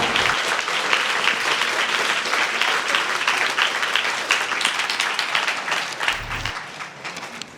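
Dense, loud applause from an audience filling the room, continuous and even throughout with no speech on top.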